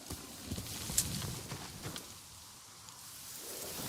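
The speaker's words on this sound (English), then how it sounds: "Horse!" Horse hooves clip-clop in the video game Ghost of Tsushima, a faint irregular patter of steps over soft rain-like ambience, with a few sharper knocks.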